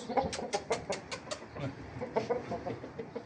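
A rooster kept for sale clucks and calls in short rapid bursts at close range, fairly quiet, with background noise around it.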